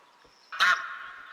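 A single goose honks sharply and fairly close in a hunting game as a flock comes in to land, the call trailing off over a quiet outdoor backdrop.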